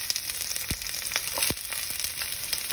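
Onions and peppers fry in a hot pan with a steady, close hiss and crackle, broken by a few soft knocks of stirring; no one speaks.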